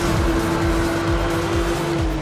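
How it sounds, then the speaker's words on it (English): Pink Porsche in the Need For Speed Rivals racing game firing nitrous, a loud steady engine roar with a sustained high drone and tire noise throughout, no talking. "Nitrous in a pink Porsche."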